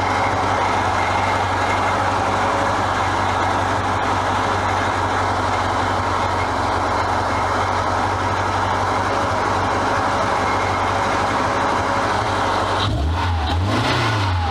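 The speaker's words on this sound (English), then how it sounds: "A little bit of a splutter there up off the idle." An old abandoned car's engine, long sat unused, runs loud and steady at idle, then revs up and splutters off idle near the end with a wavering, uneven surge.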